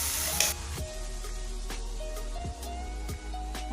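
Tomato paste sizzling and frying in a pan for butter paneer, with a steady close hiss and a few soft stirring scrapes, no talking.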